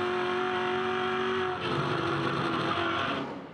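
A race car engine drones at a steady high pitch heading into a turn, then the tone shifts midway as the driver lifts off the throttle, the engine note dropping before fading slightly.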